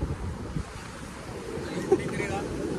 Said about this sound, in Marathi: ओ पाणी पाणी आलो पाणी आलो पायतान भिजेल ना माझे